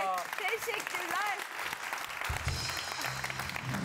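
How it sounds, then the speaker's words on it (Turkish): A studio audience breaks into sustained applause for poets on a Turkish television talk show, a steady wash of clapping that runs under a host's voice. "Sevgili şairlerimize kocaman alkışlar."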